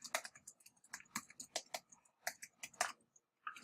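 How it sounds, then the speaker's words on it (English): Someone types an email address on a computer keyboard, a quick, uneven run of close, crisp key clicks with brief pauses, finishing after a short gap with a final couple of taps. "you're going to type in your email address"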